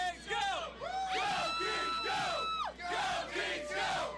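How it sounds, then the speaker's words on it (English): A sports bar crowd at ESPN Zone cheering wildly for the Kings hockey team, a dense roar of yells, whoops and screams rising and falling in waves, loud and close. "the crowd's going wild"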